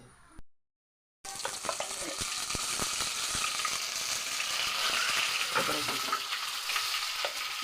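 Potatoes frying in hot oil in a home kitchen, a steady dense crackling sizzle that runs loud and continuous after a brief silent gap near the start.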